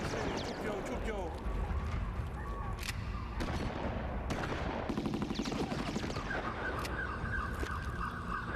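Gunfire in a dramatic Iranian film about a thirty-three-day siege, dubbed in Urdu, a dense sustained barrage of shots and blasts under loud, continuous noise, with sharp bursts cutting through at intervals.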